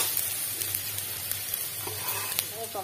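Chopped garlic sizzling in hot oil in a pan while cooking a jackfruit seed curry, a steady moderate frying hiss with small crackles and pops throughout.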